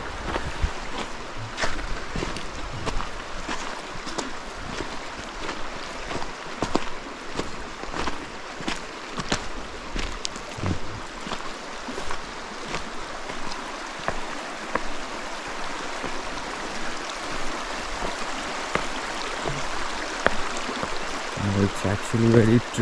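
River water rushes and splashes steadily during a crossing on a forest hike, with irregular sloshing bursts from wading steps close by under a continuous flowing wash.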